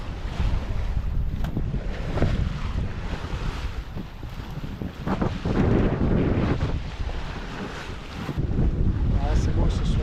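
Strong wind buffets a sailboat at sea, a loud constant rush with gusting swells and water noise, no voices heard.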